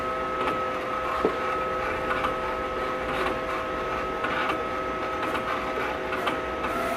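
A vinyl cutter plotter cuts a design for a custom shirt, giving a steady mechanical whir with a whining motor tone and small ticks as the carriage shifts, close and alone without talk.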